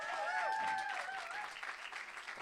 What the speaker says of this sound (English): Give them a round of applause as they come to the stage.